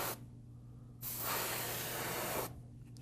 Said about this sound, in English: We start spraying beyond the model and come back across that area